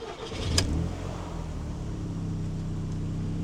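An Audi TT with a six-speed manual, showing about 73,784 on the odometer, starts up: a brief starter whirr and catch, then a quick rev that settles into a steady, close idle, with no voices.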